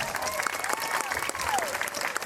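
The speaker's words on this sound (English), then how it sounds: "let's give the string quartet a nice round of applause." An audience at a city band summer concert applauds a string quartet, a steady dense wash of clapping from a crowd with a voice speaking over it.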